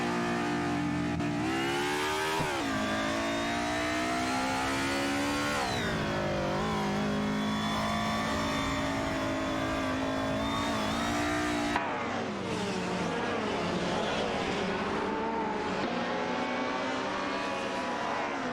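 Race cars in a racing video game roar down the track, a loud, unbroken engine whine sweeping up and down in pitch with shifts and overlapping cars and no talk.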